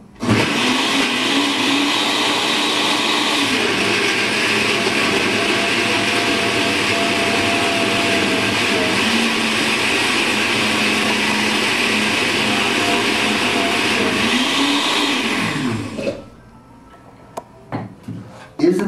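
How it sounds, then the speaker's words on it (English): A countertop blender runs steadily at high speed, whirring loudly while it blends a beet into a green drink, then cuts off sharply, followed by a few light clatters. "So we're going to add a beet to the green drink."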